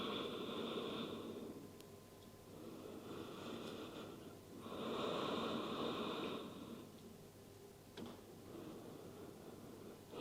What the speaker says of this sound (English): Take 2 more breaths here